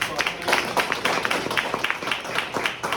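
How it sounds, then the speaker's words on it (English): An audience claps for a panelist at a media panel discussion, a brisk round of many hands with rhythmic individual claps standing out, steady and fairly close for a few seconds. "Let's give her a round of applause."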